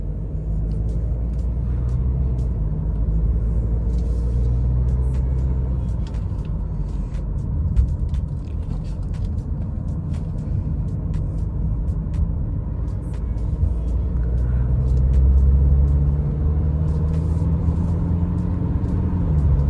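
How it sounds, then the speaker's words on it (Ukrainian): A 2019 BMW 520d xDrive Luxury Line drives along, a steady low engine and road rumble heard continuously from start to finish with a slight swell near the end. "Їде автомобіль гарно так як має їхати BMW"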